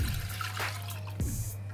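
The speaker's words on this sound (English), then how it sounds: "Just going to pour in the chicken stock." Chicken stock poured from a container into a pot for wonton soup, a brief liquid splash and trickle heard close up with no talking.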